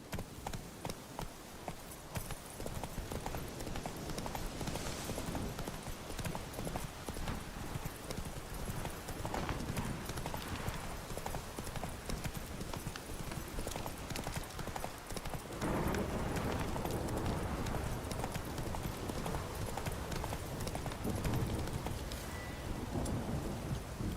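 Roach, a horse in The Witcher 3, gallops with a steady stream of hoofbeats for an extended ride, with rain falling throughout and low rumbles of distant thunder.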